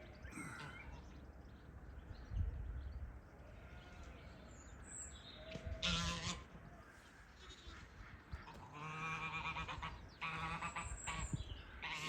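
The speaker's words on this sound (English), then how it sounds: "She's keeping the goose away from." Geese honk outdoors in the Loxley Valley near Sheffield, repeated harsh calls rising above a steady wind-blown background, moderately distant and mixed with other farm animal sounds.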